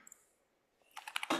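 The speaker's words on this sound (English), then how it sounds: "it is a mechanical keyboard, so yes, I'm one of those ones that makes sounds when I type" Keys on a mechanical keyboard tapped in a short burst of several crisp clicks, close and fairly quiet, ending in a louder clack after a near-silent pause.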